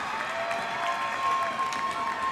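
Crowd at a girls' basketball final between WC Henderson and Unionville as both teams come out after a timeout: a distant, fairly faint spread of applause and cheering in a large gym, continuous for a couple of seconds.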